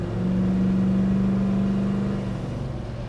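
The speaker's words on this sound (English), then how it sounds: "I just throttled it up just a little bit" A 1967 Pontiac GTO engine holds a steady, loud drone as the car is throttled up lightly on the road, the tone sustained for a couple of seconds before easing slightly.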